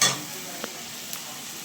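Onion, green chili, ginger and garlic frying in a pan before chicken liver is added, a bright steady sizzle with a loud initial crackle and a couple of faint spatula taps.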